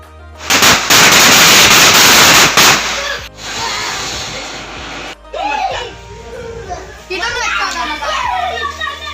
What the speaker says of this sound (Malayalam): നമ്മൾ പടക്കമൊക്കെ പൊട്ടിച്ച് ചെറുതായിട്ടൊന്ന് ആഘോഷിക്കാമെന്ന് വിചാരിച്ചു